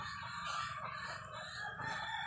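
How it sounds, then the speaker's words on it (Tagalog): Rooster crowing faintly in the distance, a drawn-out call that rises and holds over a steady, noisy background. "pagtitilaok ng manok"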